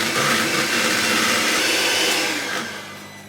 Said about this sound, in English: you just give it an extra good whisk to make sure it's all done